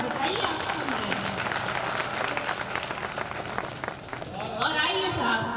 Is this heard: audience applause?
yes